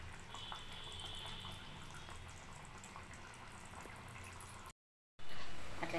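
Water from a small glass goes into a chicken curry on a high flame, giving a soft, close liquid trickle and gentle bubbling that runs steadily before a brief silent cut and a louder return.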